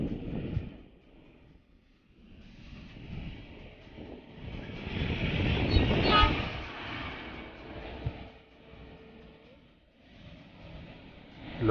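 A train crosses the Pamban bridge at walking pace, and a low, distant rumble swells to a peak midway before fading back, with wind in the background.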